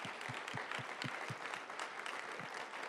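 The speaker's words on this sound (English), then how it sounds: "please help me say thank you with a warm applause" Audience at an entrepreneurs summit applauding a panel, a fairly quiet, steady round of clapping with a few distinct nearer claps standing out.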